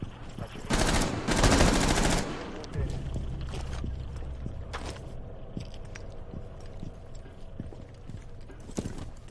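Gunshots in a Rainbow Six Siege match on PC: a dense burst of rapid automatic fire up close, followed by scattered single shots and clicks further off, with occasional quiet movement between.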